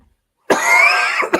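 A single close, loud, harsh cough from a man, lasting under a second, followed by a short second cough burst right after, with no talking.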